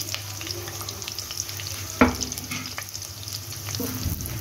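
Curry leaves and onions fry in hot oil with a close, steady sizzle, punctuated by one sharp clatter of a stirring spoon against the pan.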